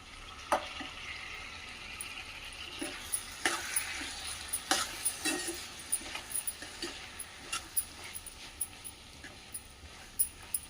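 Tomatoes frying and being stirred in a pan, a soft steady sizzle with scattered scraping clicks of the spoon, faint and close, no voices.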